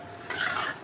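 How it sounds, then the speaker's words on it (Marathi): Liver masala is stirred in a hot pan, a short, close scrape of the spatula over a soft sizzle, lasting under a second. "परत परतून घेते,"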